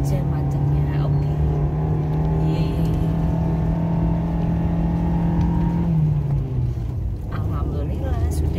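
Congested road traffic with a steady, loud drone of nearby car and motorbike engines that shifts gradually as vehicles creep along, without pause.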